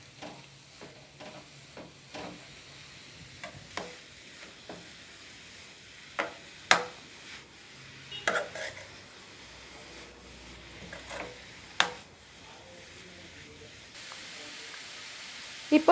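Grated papaya sautéing in hot oil in a pan for a papaya paratha filling, giving a faint, steady sizzle broken by scattered scraping and clinking of a spoon against the pan.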